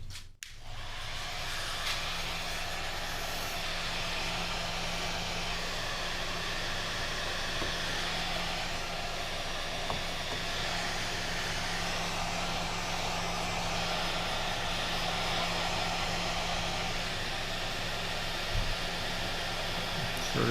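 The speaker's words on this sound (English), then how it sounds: "we're just going to get the heat gun and put the heat gun on it just a tad" Heat gun blowing steadily on a headlight brow trim, a constant loud airy whoosh lasting the whole stretch with no pauses.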